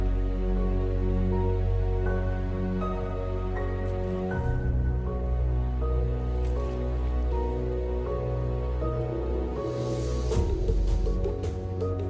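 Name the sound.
waves lapping, wind and relaxing music in the video game Raft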